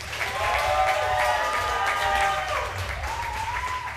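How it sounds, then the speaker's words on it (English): An audience at a live comedy stage show applauds steadily and fairly loudly for a performer for several seconds, with whistles and cheering mixed into the clapping and voices talking underneath. "Please give a big round of applause"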